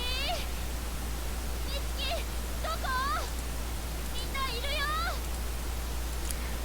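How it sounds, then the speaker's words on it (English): Rain and wind in the Corpse Party: Book of Shadows video game wash through an old, dilapidated building as a steady hiss under a low hum, with scattered bird-like chirps rising above it. "Just the cold, lonely sounds of rain and wind bearing down this old, dilapidated building."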